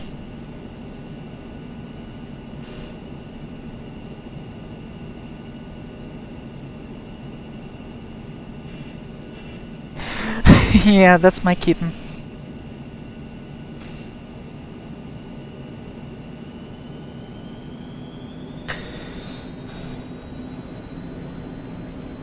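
Steady cabin drone of the Aerobask Eclipse 550 jet engine in X-Plane 11, a constant hum with a high tonal whine that shifts upward near the end; a short burst of a spoken voice breaks in midway.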